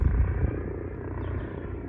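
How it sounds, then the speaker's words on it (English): Helicopter overhead, a low, rumbling drone that is louder at first and then eases into a steady, muffled hum, with no talking. "a helicopter above me right now"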